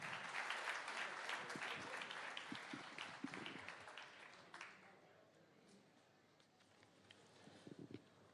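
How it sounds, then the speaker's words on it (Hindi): Crowd applause welcomes a Union Minister onto a stage at an Indian media event, a sustained clatter of many hands that fades after about four seconds into sparse, lighter claps and a few sharp isolated hits. "जोरदार तालियों से स्वागत करिए यूनियन मिनिस्टर अनुराग ठाकुर जी का।"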